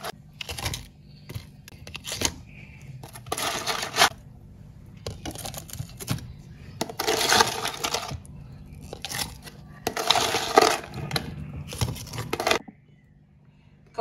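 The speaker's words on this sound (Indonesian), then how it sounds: "Selanjutnya tambahkan es batu secukupnya." Ice cubes are scooped into eight plastic drink glasses in bursts of clattering, rattling clicks separated by short pauses, close and fairly loud against a quiet background.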